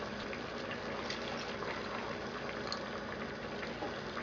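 Dinuguan, a pork blood stew with long green chili, simmers in a pot as vinegar is poured in, giving a steady, dense bubbling and liquid wash that holds at an even level throughout with no voices.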